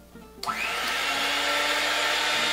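Hand mixer switched on at medium speed, whipping angel food cake batter: after a few soft clunks the motor starts and runs as a steady, bright whir with a rising whine, close and loud.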